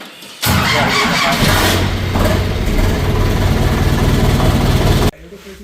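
A loud tractor engine cranks and starts, then runs at a rough, heavy idle for several seconds before cutting off.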